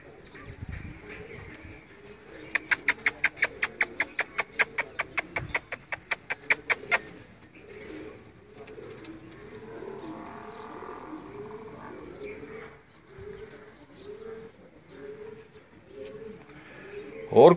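Sialkot breed pigeons coo in a repeating soft rhythm close by, with a fast burst of sharp clapping or flapping early on and faint background sounds throughout.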